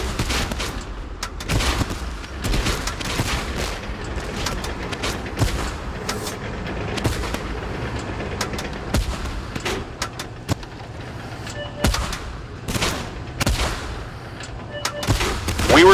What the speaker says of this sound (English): We are under bombardment!